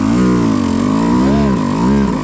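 Beta RR Racing 200 enduro motorcycle engine running at low throttle on a hard enduro slope, a steady close buzz with slight pitch rises and dips, while people talk over it.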